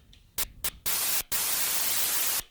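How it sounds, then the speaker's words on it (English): Bursts of loud, hissing white noise from an Octatrack MK2 synthesizer: two short blasts, then a long sustained wash with a brief gap, cutting off abruptly. "White noise, we've got a sound."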